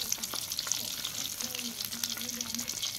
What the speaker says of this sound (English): Turning golden brown. And you just let them fry.